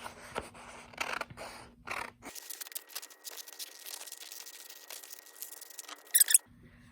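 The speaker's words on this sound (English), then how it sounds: "now I can cut out the shape of my house using my scissors" Quiet, close-up snips and crinkles of paper being cut with scissors, coming in short irregular bursts with pauses between.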